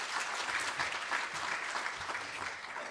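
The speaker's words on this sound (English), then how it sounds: "Please welcome him with a round of applause." An audience at a foreign-minister dialogue event applauding to welcome a keynote speaker, steady dense clapping from a sizable crowd with no voices.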